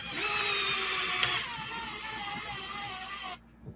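A power drill threading new ends onto Arrma Kraton RC car parts, whining steadily up close, then pitching down slightly partway through before cutting off abruptly near the end.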